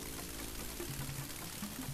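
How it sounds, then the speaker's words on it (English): Water sound from the video game Dark Seed: a steady, hissing pour or trickle with faint low blips over it, moderately quiet and continuous. "That has to be possibly the worst water noise in any game"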